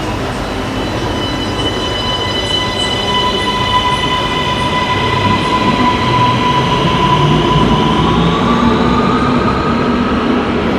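A metro train pulls into a Sofia underground subway station with a loud, continuous rumble, a high motor whine sliding in pitch and faint wheel squeal, with no voices.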